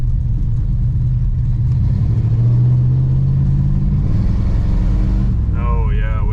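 A 1966 Pontiac Grand Prix barn find's engine drones and climbs in pitch as it revs under way, a loud, close rumble inside the moving car, with a voice briefly heard near the end.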